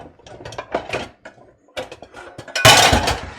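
Pots and pans clatter and knock as they are dragged out of a cupboard, giving a scatter of irregular clanks and scrapes that swell into a loud, bright crash near the end.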